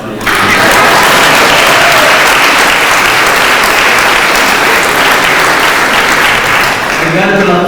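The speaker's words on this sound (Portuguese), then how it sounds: "uma salva de palmas." Church congregation giving a round of applause, dense sustained clapping from a large group starting abruptly and holding steady, loud and close, fading near the end.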